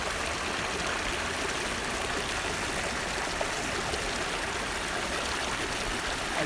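Naturally hot spring water at Tattapani flows in a steady, close rushing stream, a continuous bright wash of splashing water with no talk over it.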